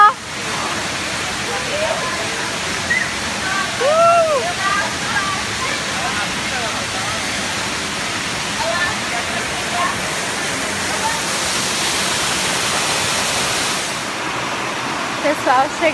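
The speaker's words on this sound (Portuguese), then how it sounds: "chegamos aqui à cachoeira" Waterfall at Cachoeira da Saudade roars in a steady, dense wash of falling water heard close up, with occasional faint voices underneath.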